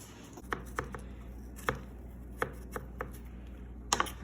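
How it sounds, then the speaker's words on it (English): Knife cutting through an apple on a board, a series of about ten crisp, quiet chops at an uneven pace. "so we're gonna slice up our apple"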